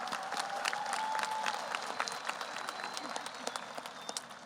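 A crowd at a high school graduation applauds steadily in a dense wash of clapping, with a few voices mixed in.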